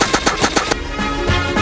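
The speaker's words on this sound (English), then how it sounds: "shoot the heck out of the zombies with the cannon." A cannon fires on zombies in a Roblox Plants vs Zombies game, with a rapid burst of loud repeated shots in the first part, then a sustained mechanical hum.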